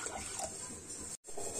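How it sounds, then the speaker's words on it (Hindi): Water from a glass poured into a pressure cooker holding dal with turmeric and salt, a steady close splashing and gurgling stream with a brief break near the end. "हम 1 गिलास पानी इसमें डाल देंगे,"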